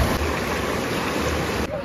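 Dharara waterfall at Simultala, Bihar, roars as a dense, continuous broadband rush of falling water, loud and steady throughout with no breaks.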